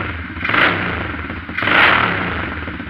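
A pit bike engine fitted with a cheap $20 aftermarket muffler revs twice, each throttle blip swelling into a raspy, buzzing roar before settling back to a steady idle.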